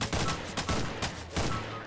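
Suppressed AUG rifle fire in CS:GO: a rapid string of muffled, punchy shots in short bursts, close and moderately loud, with no talking.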